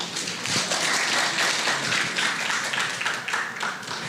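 Audience at an education development workshop claps after a professor's keynote presentation, a dense steady patter of many hands filling the room without pause.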